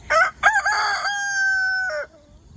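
A backyard rooster crows loudly and close by, two short clucking bursts followed by one long, drawn-out cock-a-doodle-doo that cuts off sharply, with no talking.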